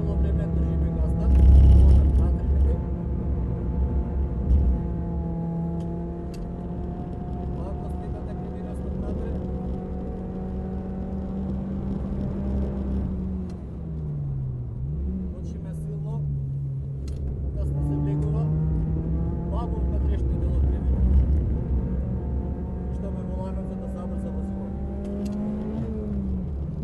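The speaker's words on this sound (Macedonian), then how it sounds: "Тука имаме нагло кочење. Цело време држиме газта." A racing car brakes hard and then accelerates, its engine droning and revving in rising and falling tones over a long stretch, with loud wind and road noise throughout.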